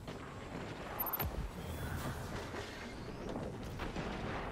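Rocket launcher blasts and explosions in the video game Destiny 2, a sharp boom near the start followed by a dense, continuous rumble of gunfire and distant detonations throughout.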